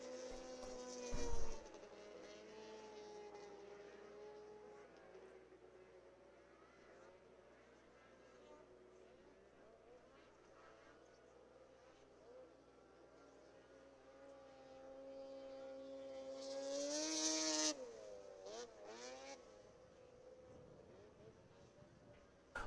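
Snowmobiles racing on a snowy track make a steady droning whine from distant engines, then one machine roars close and loud in a brief pass before fading away.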